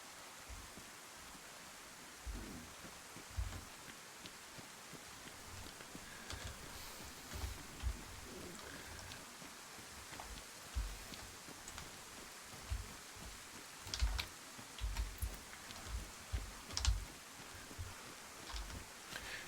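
Rain falls in the video game DayZ, a steady soft hiss with scattered heavier drips and low thumps, fairly quiet and without talking.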